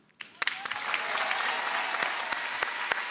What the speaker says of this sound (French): Applaudissements pour Sohan, s'il vous plaît